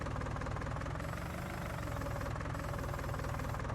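A tractor engine in Farming Simulator 19 runs steadily, a continuous low, throbbing diesel drone with a fast knocking pulse and even loudness throughout.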